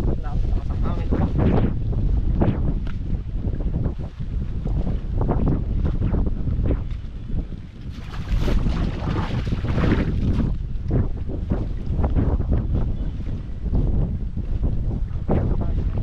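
Strong wind gusting across an open farm at harvest, a loud continuous roar buffeting the microphone with surging peaks and no clear voices.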